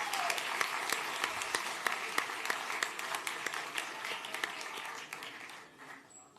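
Audience applause for veterans and a Veteran of the Year at a county board of commissioners meeting, a dense steady clapping from a crowd that tapers off near the end.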